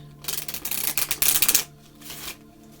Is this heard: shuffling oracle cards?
yes